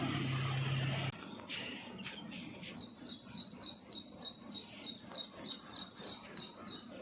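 Small birds chirp and tweet in a village yard where grain is scattered for them. A quick run of bright, evenly spaced calls repeats steadily for several seconds, close and clear over a quiet background.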